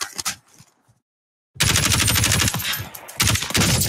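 Rapid automatic gunfire in the Warzone battle royale game, a few loud shots, then a second of silence, then sustained close, loud bursts of rattling fire running to the end.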